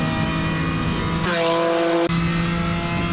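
GT race car onboard at Virginia International Raceway in a racing video game, the engine droning steadily with a gear change and brief drop in revs midway before pulling again, under faint background talk.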